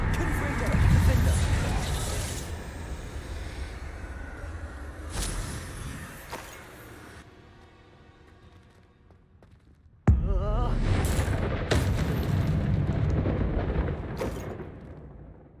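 Confringo blasting spell in Hogwarts Legacy, loud fiery explosions and crackling blasts amid battle noise, with a heavy burst starting a second loud stretch. Voices speak during the action.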